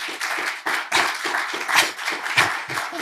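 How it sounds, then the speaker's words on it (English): A live audience claps for the panelists at the close of a two-hour discussion on information integrity, the handclaps steady and close, with several sharper individual claps standing out across the burst. "I suggest a round of applause for our fantastic panelists"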